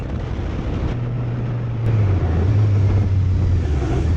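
Motorcycle riding along winding Telemark roads in Norway, with a steady engine drone and strong wind rush that rises in pitch as the bike accelerates, loud and continuous.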